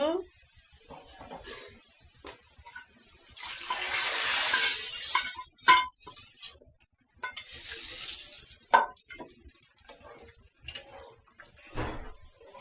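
Dal being tempered in a hot pan on a home stove, with bursts of loud frying sizzle that swell and fade alongside stirring scrapes, plus scattered clatter and brief voices.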